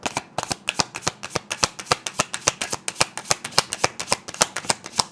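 A deck of oracle cards is riffled and shuffled in quick, crisp bursts, a rapid steady run of close, loud clicking flutters with no voice over them.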